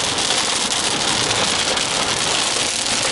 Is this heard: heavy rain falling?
yes